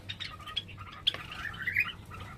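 Pet Java sparrows in a cage giving a few thin chirps and squeaky calls, faint and close, scattered over a low steady background hum.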